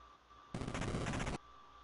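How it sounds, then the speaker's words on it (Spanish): A rapid burst of basic gunfire in Super Contra, a dense rattle of shots lasting under a second amid quiet background hum. "empezamos con los disparos básicos"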